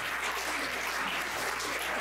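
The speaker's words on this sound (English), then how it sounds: "Give yourselves a big round of applause." An audience at a spiritual conference summit applauds, a dense, steady wash of clapping filling the short moment without any voice on top.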